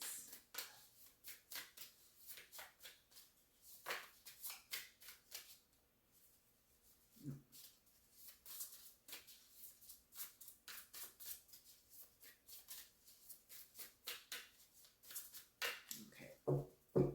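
Tarot cards being shuffled by hand, a close, quiet run of rapid riffling and sliding flutters repeating in bursts with brief pauses, and no talking.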